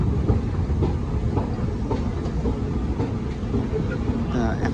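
A London Underground train rumbles steadily past, its loud, continuous rolling noise filling the space, with a faint high squeal near the end and no clear talk.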